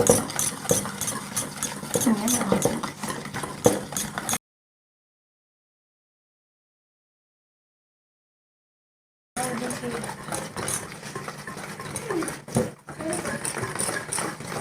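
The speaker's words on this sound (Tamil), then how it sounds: "நல்லா மிக்ஸ் பண்ணணும், க்ரீமி லெவலுக்கு வர மாதிரி." Dalgona coffee being whisked by hand toward a creamy texture, a rapid rhythmic scraping and clicking against the bowl, in two bursts separated by a silent gap, with a voice talking over the whisking.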